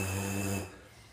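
A loose-lipped buzz into a tuba mouthpiece, heard alone: a low, flabby, rattling drone with a steady pitch that holds for about half a second, then drops away into quiet breath.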